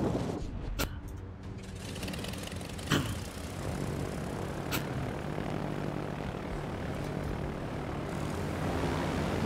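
Carrier aircraft engines in the naval battle game World of Warships drone steadily throughout, with a few sharp clicks and taps breaking through the continuous noise.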